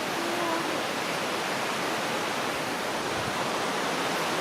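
Roar of Sweden's highest waterfall, a steady, dense wash of falling water close by that fills the whole stretch without a break.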